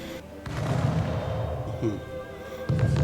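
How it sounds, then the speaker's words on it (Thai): Deep cannon booms in the game Anno 1800 go off twice, once early and again near the end, over a continuous rumbling game soundscape. "เสียงปืนใหญ่"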